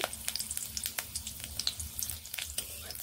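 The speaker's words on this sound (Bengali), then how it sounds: "আবারও একটু তেল দিয়ে একটি কাঁচা লঙ্কা ও একটু পাঁচফোড়ন দিয়ে নিচ্ছি" Green chili and panch phoron spices sizzling in hot oil in a pan, a steady faint crackle with sharp little pops scattered throughout, close and without talk.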